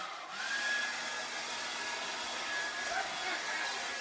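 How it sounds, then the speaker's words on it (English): A hair dryer blows with a steady, loud airy whoosh that starts just after a short pause and holds evenly to the end, with a faint whine riding on top. "We're still playing with it, using the hairdryer quite a lot."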